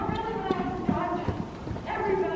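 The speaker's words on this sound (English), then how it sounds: "fastest horse in the arena" A horse's hooves pound in a quick clip-clop rhythm while running in a jousting arena, heard close and mixed under people talking.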